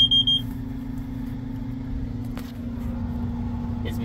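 A combine thresher's electronic alarm sounds in brief repeated beeps at the start, then gives way to a steady engine rumble and drone with no talking.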